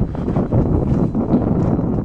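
Gusty wind buffets the microphone outdoors on a cold hike near a waterfall, a continuous low rumble with rustling and no voices.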